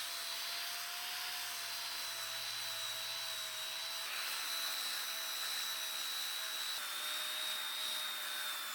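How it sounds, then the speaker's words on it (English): A profile sander works over an aged, grooved wood board with a steady high-pitched whine and hiss that holds at an even, moderately faint level the whole time, with no talk. "I'm going to use this profile sander to clean it up."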